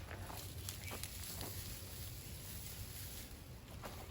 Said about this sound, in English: And we got a breeze blowing